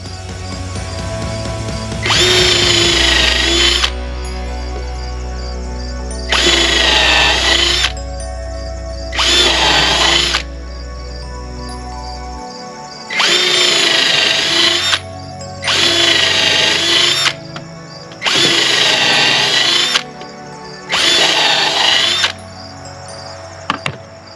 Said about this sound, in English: I'm putting in 2 holes at an angle.